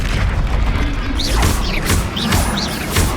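Confringo fire-blast spell in Hogwarts Legacy, cast in combat: a run of loud, booming, crackling bursts with sweeping whooshes, one after another over a dense, continuous battle din.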